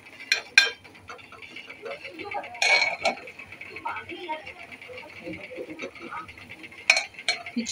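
Khichdi being served out of a cooking pot produces scattered metallic clinks and scrapes of a spoon against the pot, faint and close, while a person talks.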